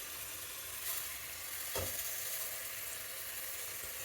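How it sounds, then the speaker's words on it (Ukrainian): Rice drops into a pot of frozen vegetables frying over low heat, giving a steady close sizzle with one brief louder crackle as it lands. "робимо мінімальний вогонь, закидаємо сюди рис."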